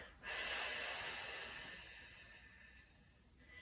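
A single long, close breath out through the nose during a hip flexor stretch, starting sharply then tapering off softly over a few seconds.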